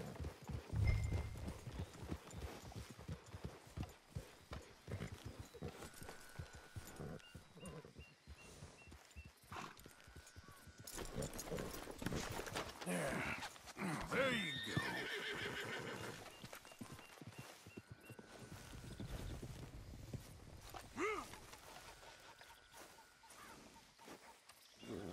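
Horses in the video game Red Dead Redemption 2 clip-clop steadily while neighing and whinnying break out several times, with an animal growl or roar at moments and a busy game-world din underneath.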